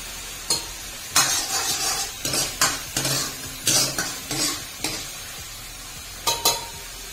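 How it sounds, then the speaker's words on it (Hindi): Fried spice masala being added to lentils in a pan, with a series of close, sharp scraping and clinking spoon strokes against the pan over a soft sizzle, in irregular bursts and no talk. "ये देखिए यहाँ पे हमारा मसाला भून गया है और मैंने दाल खोल रखी है। मैंने दाल में डाल दूंगी आधा मसाला।"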